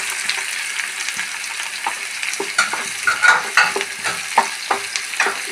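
Five to ten finely chopped garlic cloves frying in a pan: a close, steady crackling sizzle with scattered sharp pops and stirring clicks.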